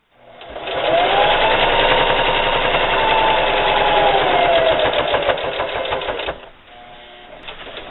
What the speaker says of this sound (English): I'm going to take a couple stitches forward, a couple stitches back,